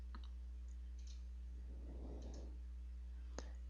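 A computer mouse clicks while profiles are selected in CAD software. There are a few sharp, isolated clicks near the start and a single crisp click near the end, quiet over a low steady hum.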